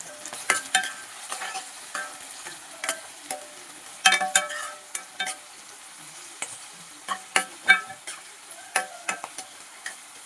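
Onions and green peas fry in a pan for upittu, a soft sizzle under frequent sharp spatula scrapes and taps in an uneven rhythm, close by and without speech.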